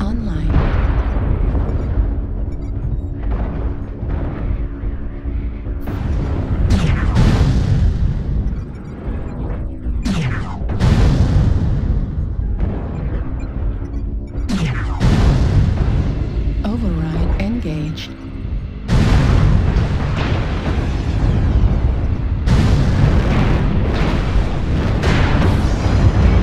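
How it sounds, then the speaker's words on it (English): Explosions from an artillery strike in a video game boom repeatedly, with loud bursts and rumbling blasts spread across the stretch, while a synthetic announcer voice speaks between them. "Artillery strike online."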